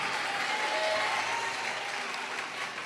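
Church congregation applauding during a Portuguese-language sermon, a steady wash of many hands clapping at once, moderately loud and even, with no talk over it.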